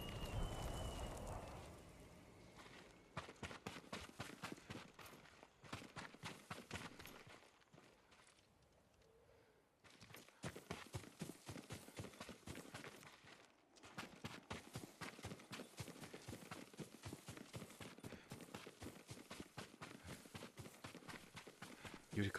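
Horse hooves in the video game Ghost of Tsushima, a steady rapid clip-clop of galloping close up that runs nearly throughout, dipping briefly midway before resuming.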